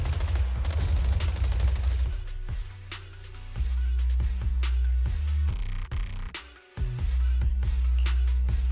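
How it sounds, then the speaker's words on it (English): Suppressive marching gunfire in the video game Zenless Zone Zero, loud bursts of rapid shots with heavy low booms, pausing briefly and resuming in irregular volleys. "Gunfire? This pattern. Suppressive marching fire."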